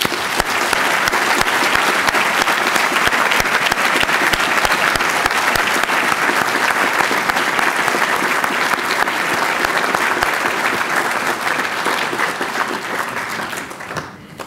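An audience applauds an award recipient at a Spain US Chamber of Commerce event, sustained dense clapping from many hands that stays loud and steady for the whole stretch before thinning slightly at the end.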